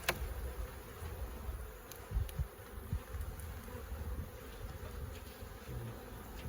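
Honey bees hum steadily inside a warm wooden beehive readied for winter, a continuous close buzzing drone with small scattered bumps and knocks, no one speaking.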